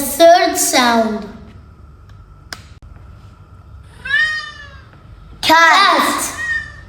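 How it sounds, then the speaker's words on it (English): A cat meows loudly and close by in three drawn-out, wavering calls, one at the start, one in the middle and one at the end, separated by quieter pauses. "That was a cat."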